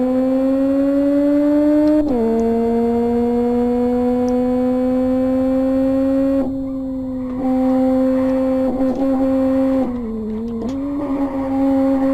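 An Audi A6 Quattro in a video game accelerates during a speed test. Its engine drones loudly and steadily, the pitch climbing with a few gear-shift dips along the way, with no talking.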